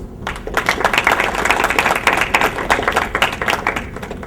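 An audience at a discourse session in Ohio claps together, a steady, dense patter of many hands at close range that holds for several seconds.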